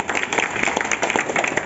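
Crowd at an outdoor political rally in Shakarpur, East Delhi, clapping in a brief burst of uneven, crackling applause, fairly close and loud, lasting under two seconds.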